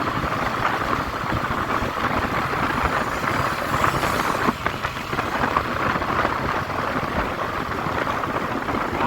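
Large raindrops pelt down during a drizzle on a dark road, a dense, steady patter that runs without pause throughout, heard up close over a low engine rumble.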